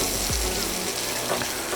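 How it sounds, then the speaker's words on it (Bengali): Cauliflower frying in oil in a kadai with a little turmeric and salt: a steady close hiss of sizzling oil with a brief clank near the start and faint stirring underneath, no voices. "সেম তেলে আমি ভেজে নেব ফুলকপিটাকে"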